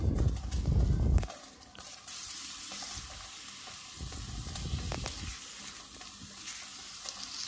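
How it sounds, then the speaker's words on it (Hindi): Chicken fries in hot oil in a pan, opening with a loud burst of sizzling and stirring before settling into a quieter, steady crackle with occasional scrapes, close by and without talk. "अब ये चिकन को हम फ्राई होने देंगे।"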